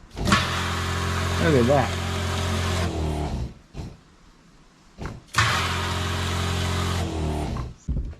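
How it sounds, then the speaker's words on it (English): A pump switched on during a rebuild, running with a steady droning motor hum that stops, then starts again and runs for a couple more seconds, with a person talking over it. "So turn the pump on."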